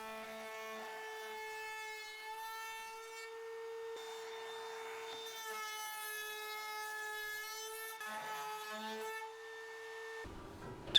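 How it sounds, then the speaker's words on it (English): A router mounted in a jig cuts chamfers into holes in a wooden workpiece for handmade Easter gifts, producing a steady, close, high-pitched motor whine with strong harmonics that holds for about ten seconds before stopping. "I want to add a chamfer to all the holes, so I get my router jig set up, and then I can start adding that detail."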